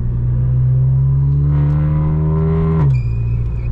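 Audi car with a straight-through exhaust revving hard and steadily, its engine note climbing loudly and holding high before dropping sharply near the end, with a whine following the drop.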